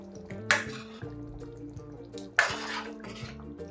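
Fresh coriander being stirred into an eggplant and potato curry in a pot, giving two clear scraping clinks of a spoon against metal a couple of seconds apart over a low steady background hum.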